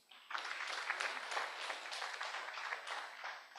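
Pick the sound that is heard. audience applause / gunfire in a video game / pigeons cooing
audience applause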